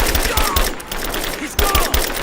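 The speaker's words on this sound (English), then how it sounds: "Open fire! Give me suppressing fire!" Rapid bursts of gunfire in the video game Rise of the Tomb Raider, loud and close, with repeated volleys over a dense background of combat noise and a brief lull midway.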